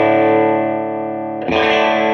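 An electric guitar through an Empress Comp compressor pedal with a Line 6 HX Stomp on a pedalboard rings out in a loud, sustained distorted chord, then a fresh strum partway through, with no talk.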